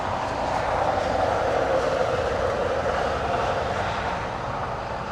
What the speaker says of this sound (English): We have Virgin Atlantic coming in to land in the north side.